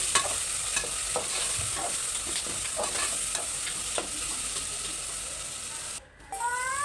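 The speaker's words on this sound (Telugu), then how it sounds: "సాల్ట్ వేసిన తర్వాత మళ్ళీ కలుపుకోవాలి" Khichdi mixture being stirred after salt and coriander powder are added, with a spoon scraping and tapping the pot in uneven strokes over a soft background hiss, and a brief sharp clink near the end.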